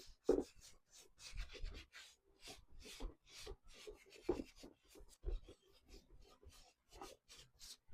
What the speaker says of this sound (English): Okay, let's have a rag, and we'll start wiping off.